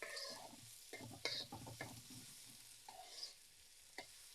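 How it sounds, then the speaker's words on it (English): Onions frying in a pan for a Thai-style curry, a soft, quiet sizzle with scattered crackles and stirring clicks, heard close with no talking. "start with the onions and just let it sit for a minute or two until it starts to cook"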